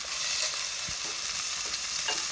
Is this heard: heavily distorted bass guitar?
no